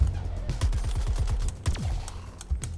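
Weapon fire in Suicide Squad: Kill the Justice League, a rapid burst of repeated shots followed by a couple of separate blasts and game effects, fairly loud and close, with no speech over it.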